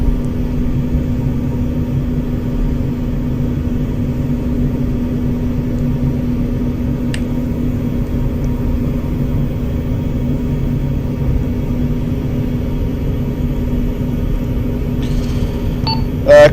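A jet aircraft in the Arma 3 video game rolls for takeoff from an airfield under shelling, a loud steady engine rumble and drone sustained throughout, with a brief sharp click near the end.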